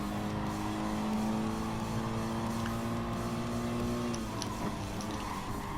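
Race car engine in the Gran Turismo Sport video game during a daily online race, a steady loud drone holding pitch then dropping as the driver lifts, with faint ticking overhead.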